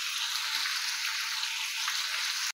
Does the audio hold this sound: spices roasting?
yes